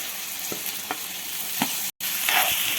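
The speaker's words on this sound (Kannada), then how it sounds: "ಆಲೂಗಡ್ಡೆನ ಫಸ್ಟ್ ಎಣ್ಣೆ ಒಳಗನ್ನು ಚೆನ್ನಾಗಿ ಫ್ರೈ ಮಾಡ್ಕೋಬೇಕು" Potato pieces fry in oil over a tempering of mustard seeds, onion and curry leaves, giving a loud, constant sizzle with intermittent stirring knocks and a momentary break.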